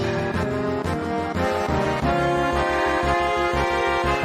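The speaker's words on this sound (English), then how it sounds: "whistles, or should I say clanging metal sounds?" A Final Fantasy VII battle theme plays with a driving, pulsing low rhythm and dense synth layers. Clanging metallic hits sit in the mix of the loud, continuous game music, with no voices.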